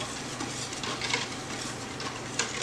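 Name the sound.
stirring salt into coconut milk soap batter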